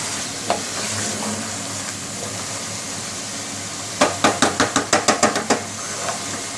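Potatoes and bell peppers frying in a pan with a steady sizzle, then a quick run of about nine rhythmic spoon taps against the pan near the end, close and clear with no talking.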